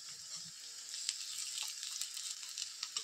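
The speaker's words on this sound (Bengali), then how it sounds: "এবার এটাকে আমি এক পিঠ ভালোভাবে কিছুক্ষণ ভেজে নিব" Egg pitha fries in oil in a pan with a continuous, fairly quiet sizzle and scattered small pops and crackles, with no talking.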